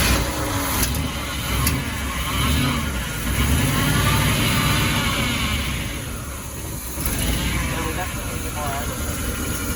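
The engine of a 1973 GMC motorhome runs at a rough, uneven idle, a steady close rumble that swells and sags slightly, with people talking over it.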